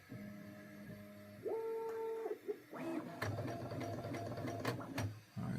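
A Bambu 3D printer clears its nozzle, giving off a run of stepped motor tones that shift pitch like a sewing machine, with sharp mechanical clicks and ticks toward the end, moderately quiet and close.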